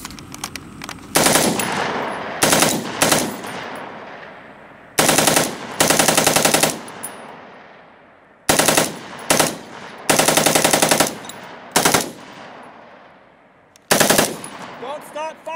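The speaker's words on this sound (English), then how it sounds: "Don't stop firing, damn it!" Loud machine gun fire in several sustained bursts separated by pauses, each burst close and harsh with rapid repeating shots and echoing tails.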